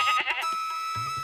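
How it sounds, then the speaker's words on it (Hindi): A goat gives a short, wavering bleat up close. It is clear and fairly loud, then a lower bleat sounds briefly at the end. "कुछ देर ढूंढने के बाद राजू को बकरी मिल जाती है"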